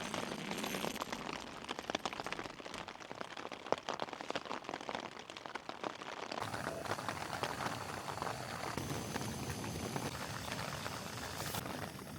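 Steady rain patters on a tent during a wild camp in the Lake District, a dense continuous hiss heard from inside the shelter, with the texture shifting partway through as the drumming grows more even.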